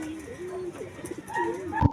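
Pigeon cooing in soft, repeated low hoots over a couple of seconds, fairly close, with a brief louder rustle or flap near the end and no talking.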